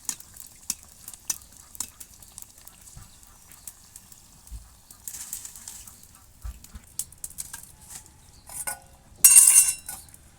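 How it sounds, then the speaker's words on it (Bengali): Shrimp kachori deep-frying in hot oil, a soft steady sizzle with occasional clinks of a utensil and a sharp louder burst near the end as a piece is lifted out. "আমার এই কচুরিটা ভাজা হয়ে গেছে, এটা উঠে নেব।"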